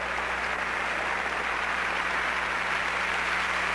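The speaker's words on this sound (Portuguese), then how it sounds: "Vamos aplaudir o Senhor!" A large congregation at a Jimmy Swaggart church crusade in Ohio bursts into sustained, dense applause, an even wash of clapping from many hands with no talking.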